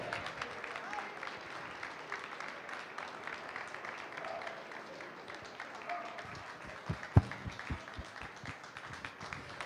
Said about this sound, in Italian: Il maltese, accogliamolo con un applauso.